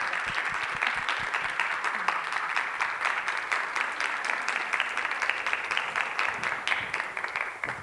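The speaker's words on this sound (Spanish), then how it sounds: "le damos un aplauso" An audience applauds after a conversation event with an actress, with many hands clapping steadily for several seconds in a full, even wash of claps and faint crowd murmur beneath.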